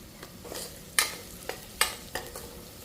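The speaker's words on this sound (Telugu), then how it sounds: "ఒక స్పూన్ అల్లం వెల్లిగడ్డ వేసుకోవాలి. సో అది వేగిన తర్వాత పసుపు వేసుకోవాలి." Ginger-garlic paste and turmeric fry in hot oil for a sprouts curry, a soft steady sizzle broken by several sharp scraping stirs of a spoon in the pan.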